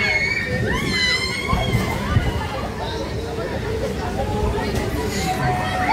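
People scream and shriek on a fairground ride at a funfair, loud, high-pitched cries rising and falling over a constant crowd hubbub, with chatter mixed in.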